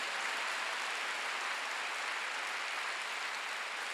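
Church congregation clapping in a steady, dense wash of applause that stays even and continuous throughout, with no voices over it.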